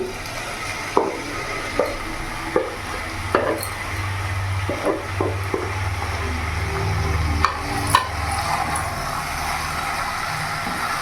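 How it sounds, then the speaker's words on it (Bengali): Pre-fried chicken pieces dropped into a pan for chicken ghugni, a low steady sizzle running underneath scattered clinks and scrapes of stirring, close and moderately loud. "এবার এখানে ভেজে রাখা চিকেনগুলো পুরোটা দিয়ে দেবো"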